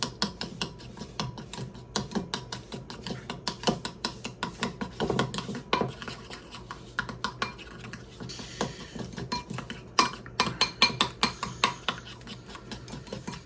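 A spoon works ground beef and seasoning, including garlic powder, salt and pepper, around a bowl, making steady close scraping and clicking strokes in a busy repeating rhythm with no talk.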